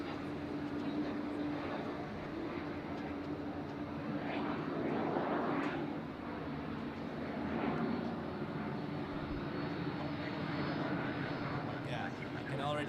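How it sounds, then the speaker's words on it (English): A United Boeing 767 roars steadily at Zurich airport, a continuous heavy jet-engine rumble and whine heard from an observation deck, loud and sustained with a voice talking over it. "And now you see the United coming up, and let's enjoy some classic engine sound."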